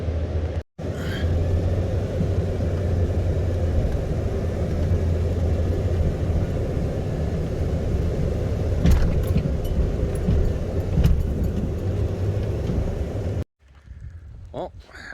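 A vehicle engine drones steadily while plowing falling snow, a close, continuous low rumble with faint jingling, broken by a brief dropout near the start and cutting out near the end.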